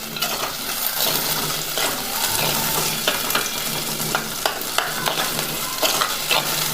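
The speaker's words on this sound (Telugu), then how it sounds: "ఉల్లిపాయలు వేసి బాగా మగ్గించుకోవాలి।" Onions sautéing in a clay pot, with a steady sizzle and frying hiss plus occasional scraping stirs and clinks, loud and close throughout.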